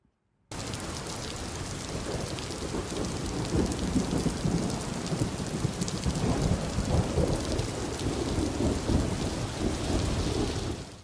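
Heavy monsoon rain in Gujarat pours continuously and loudly, drumming on surfaces, with low rumbling thunder rolling underneath throughout.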